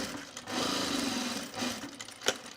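A sewing machine stitches along a bag edge in a quiet, continuous whir that dips briefly mid-run, ending with a small click.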